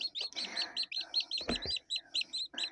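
Rapid, high-pitched peeping of newly hatched Cochin chicks from an incubator, many chirps in a quick continuous run, close and fairly loud, with one brief low thump midway.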